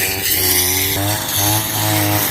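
A motorised grass cutter runs close by in a rural field, its engine droning with a buzzing, harmonic whine that shifts pitch a few times as it cuts grass.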